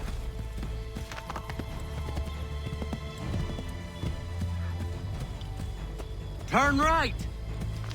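A horse galloping in Assassin's Creed 3 Remastered, with steady clip-clop hoofbeats running throughout and a loud whinny near the end, while a voice shouts over the ride.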